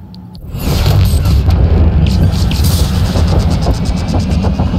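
An explosion in the video game Prey goes off with a sudden loud blast that swells into a sustained, heavy roaring rumble with crackling debris.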